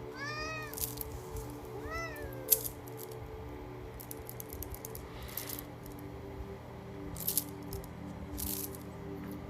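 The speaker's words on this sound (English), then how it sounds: "Meow meow." A cat meows twice in quick succession near the start, close and clear, over a quiet background with scattered soft clicks and rustles.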